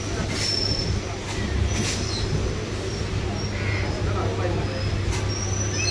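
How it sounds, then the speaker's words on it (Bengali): A Kolkata Circular Railway local train pulls out of a station, with a steady rumble of wheels on rails, recurring high metallic squeals and clatter, heard from onboard amid crowd murmur. "আমাদের ট্রেন কিন্তু এখন ছেড়ে দিল আড়িয়াতলা শোভাবাজার আড়িয়াতলা স্টেশন থেকে"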